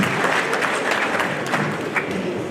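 An audience at the Cauris d'Or awards ceremony applauds a guest's mother, with thick, even clapping from many hands throughout and little else heard.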